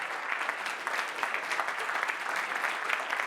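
Steady applause from a congregation at a church service, a continuous even wash of many hands clapping at moderate distance with no voices over it.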